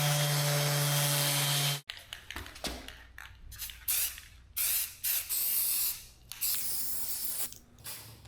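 A spray gun painting a coffee table part lets out one loud, continuous hiss for about two seconds, then cuts off, followed by quieter intermittent handling noises.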